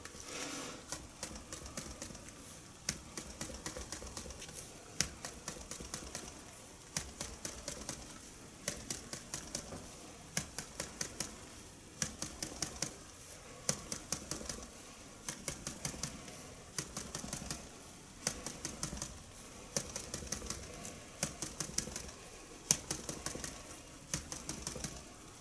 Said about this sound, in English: Now I'm just gonna tap on the sides and try to make it fold over.